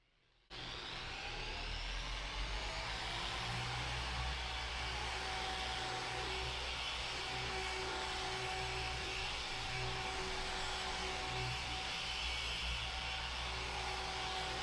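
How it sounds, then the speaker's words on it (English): A dual action polisher with a 15 or 21 millimeter throw hums steadily on the paint of a 1997 Toyota Supra 15th Anniversary Edition, a continuous even whir that begins abruptly and holds at a constant pitch throughout. "I want to show you it can be done with a dual action polisher"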